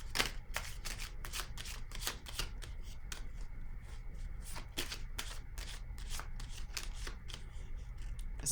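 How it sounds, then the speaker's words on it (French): Playing cards are drawn and shuffled close up in a quiet room during a card reading, a rapid series of crisp snaps and riffles with short pauses between them. "je vais piger une autre carte"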